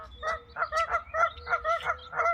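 Geese honk repeatedly in a quick, rhythmic series of nasal calls, close by and fairly loud, with no talking.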